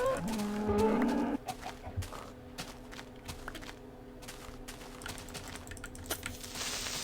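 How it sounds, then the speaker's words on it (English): Minecraft cow lowing in a game world, a few low moos in the opening second and a half over steady game ambience, then fainter clicks and shuffles. "I also want to kill this cow. There's a lot of cows out here."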